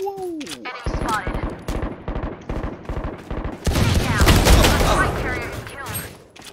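Automatic gunfire in the Valorant video game, rapid bursts and a sustained fusillade of loud shots, with game sounds and a player talking over the action.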